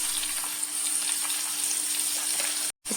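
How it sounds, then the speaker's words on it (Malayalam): Thinly sliced large onion with a pinch of salt sautéing in a pan, giving a steady, close frying sizzle throughout with a brief dropout near the end and no talk. "ഇതിലേക്ക് ഒരു വലിയ സവോള ഇതുപോലെ കനം കുറച്ചരിഞ്ഞു ഇതൊന്ന് വഴറ്റിയെടുക്കാം"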